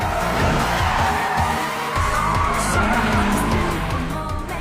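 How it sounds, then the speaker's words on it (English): A race car swings through a mountain hairpin turn without braking in an animated street-racing scene, with its engine roaring and tires squealing and skidding loudly and continuously throughout. "He's not even braking on the hairpin turn?"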